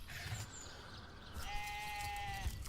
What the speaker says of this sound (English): I just got talked to by a sheep.